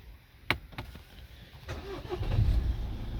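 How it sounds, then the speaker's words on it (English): A Renault Scenic 1.5 dCi diesel engine cranks and starts after a couple of clicks, settling into a low, close idle rumble with no voices. "it stays that even if I start the car"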